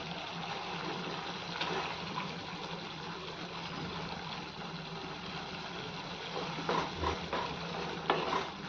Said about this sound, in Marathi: ह्यालाही चांगलं तेल सुटेपर्यंत भाजूयात